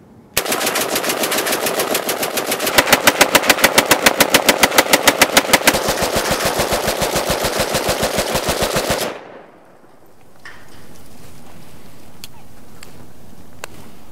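An AK-47 rifle fires a long, rapid automatic burst, loud and close, with evenly spaced shots for several seconds before cutting off into quieter outdoor room tone.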